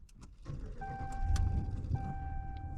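A Ram 1500 pickup engine starts for the first time after a new air filter is installed; a low idle rumble builds, and steady electronic chime tones sound over it.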